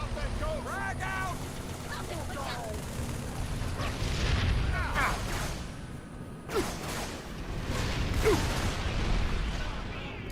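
Frag grenade blasts and battle noise in Halo 3 amid AI combat, with a couple of sharp bursts and rumbling booms over busy gunfire, whooshes and chattering in-game voices.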